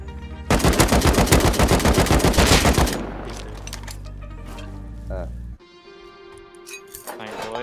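Rapid automatic gunfire in the survival video game Rust, a loud burst of closely spaced shots lasting a few seconds, followed by quieter clinks and a low game hum.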